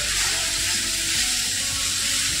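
Onion, tomato and garlic roast in a pan for kaju masala, a brief, loud, even sizzle with a dense hiss and low rumble, close up and without talk.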